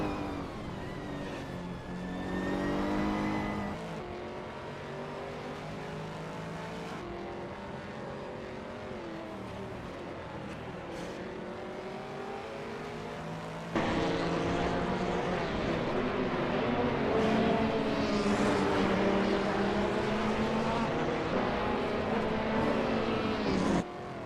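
Race cars scream past in close succession on a racing circuit, engines revving loud and rising and falling in pitch as they pass, continuous and near with a louder surge partway through.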